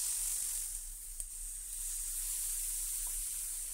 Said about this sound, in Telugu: ఇలా బాగా హీట్ అయ్యాక కొంచెం ఆయిల్ని అప్లై చేసుకొని చేపల్ని ప్లేస్ చేసుకుందాం.